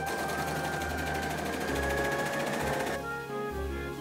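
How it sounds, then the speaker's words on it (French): A sewing machine runs a zigzag stitch through stretch fabric for a turban, a steady fast mechanical whirring that continues loud and alone, its tone dropping slightly near the end as the pace changes. "Pour coudre des matières élastiques, on utilise le point zigzag."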